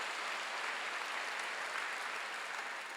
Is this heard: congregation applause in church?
yes